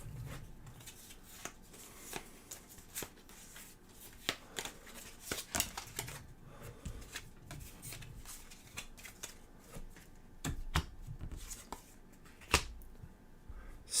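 Cards from the Pathfinder Adventure Card Game are shuffled at a tabletop session, giving soft, uneven riffling and snapping bursts with brief pauses, faint and close, with no talking.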